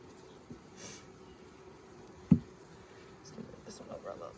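Honeybees from a nuc being moved into an empty beehive buzz faintly and steadily, with a sharp knock partway through and quiet voices nearby.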